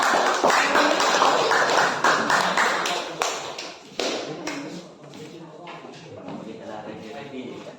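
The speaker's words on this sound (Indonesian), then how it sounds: "tepuk tangan untuk kelompok 2" Schoolchildren in a class applauding group 2, dense, close clapping with scattered sharp individual claps that slowly thins out over several seconds, with some voices mixed in.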